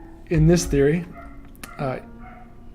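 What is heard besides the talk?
dog barking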